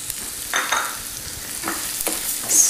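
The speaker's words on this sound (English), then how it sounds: "Stir that around in there and make sure that each grain of rice gets coated with the olive oil and the flavors of the onions and the garlic and the almonds" Jasmine rice stirred into onions, garlic and almonds sautéing in olive oil, with a soft sizzle under several scraping stirs in the pan, nobody talking.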